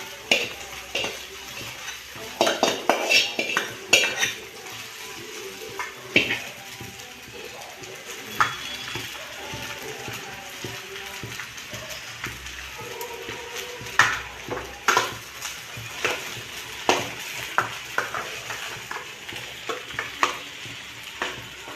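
A spoon scrapes and clatters repeatedly around a pan as sago is mixed in over a steady sizzle, in irregular bursts throughout.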